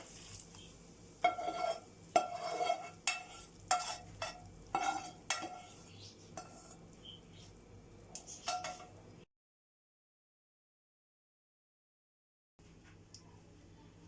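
A prepared sauce is stirred into a lentil köfte mixture with bulgur, producing repeated close scraping and clinking strokes of a utensil against a bowl, then a gap of silence and faint quiet handling afterward.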